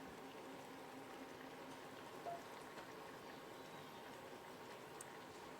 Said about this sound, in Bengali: এবার মাছটা দিয়ে দু তিন মিনিট ফুটিয়ে নেবো